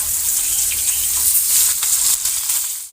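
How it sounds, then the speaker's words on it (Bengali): Chapati fish sliding into hot oil in a wok, giving a steady, close hissing sizzle with bright crackle that holds level for about three seconds before cutting off. "তেলটা আমার গরম হয়ে গেছে, এবার আমি মাছটি কড়াই দিয়ে দিচ্ছি"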